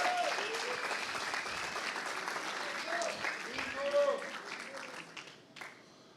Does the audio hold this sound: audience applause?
yes